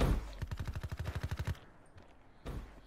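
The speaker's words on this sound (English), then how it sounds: "Someone shot him." Automatic gunfire in Black Ops 3 during a Capture the Flag match: a rapid burst of about a dozen close, loud shots over a second and a half, then a quiet gap and a single loud blast near the end.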